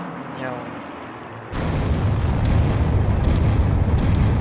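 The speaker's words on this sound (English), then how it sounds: "Just firing a few more shots, taking out a couple more buildings, I think." Artillery firing in the strategy game Spring 1944, with a sudden heavy boom that gives way to a loud continuous rumbling barrage, preceded by softer game sounds.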